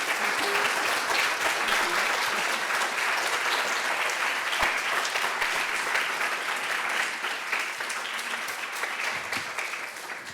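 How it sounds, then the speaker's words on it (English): Lecture audience applauds Sharon Macdonald after the Schöne Lecture 2024 on museum histories: a sustained, dense burst of hall-wide clapping that holds strong for ten seconds and only slightly thins toward the end. "I welcome everybody to give a very warm applause to Sharon Macdonald again"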